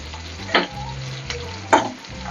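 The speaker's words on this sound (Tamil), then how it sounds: "இப்போ வந்து வெங்காயம், பச்சை மிளகாய், இஞ்சி, பூண்டு வந்து நல்லா ஃப்ரை ஆகிடுச்சு பாருங்க" Onions, green chilies, ginger and garlic fry in a pan with a steady close sizzle, broken by two sharp stirring scrapes about a second apart.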